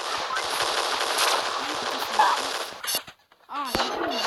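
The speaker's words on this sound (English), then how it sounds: "I'm killing you with my machine gun" Rapid bursts of machine gun fire from the video game Pixel Gun rattle continuously for about three seconds, drop into a short gap, then return in a quick final burst with a voice briefly audible.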